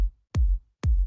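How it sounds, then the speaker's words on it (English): Three hits of an unequalised kick drum with heavy low end, each a punchy thump that swells into a long booming tail. The hits are evenly spaced and loud, with nothing else playing. "that's just a straight kick, and that low end makes it a longer sound."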